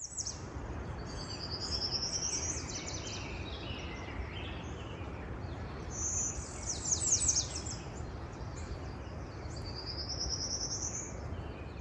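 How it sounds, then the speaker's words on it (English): Prairie warbler singing at a hawk-watch hilltop site on a sunny morning, three high buzzy rising song phrases repeated a few seconds apart, clear but moderately distant over a steady low background rumble with faint insect-like chirping. "This is a prairie warbler."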